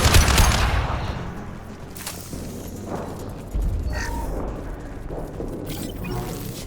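Rifle fire in the video game Mass Effect 2, Legendary Edition: a loud opening burst followed by scattered shots and booms over a dense combat background, with no talk.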